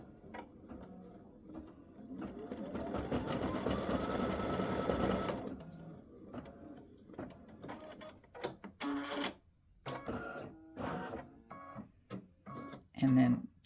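A home embroidery machine stitches free-standing lace pretzel earring pieces with a fast, buzzy mechanical whir for several seconds, then stops into clicks, taps and handling noises while a person talks nearby.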